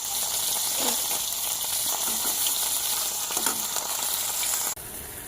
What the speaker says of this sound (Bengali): লঙ্কাটা ভালো করে কষাতে বসিয়ে দিয়েছি।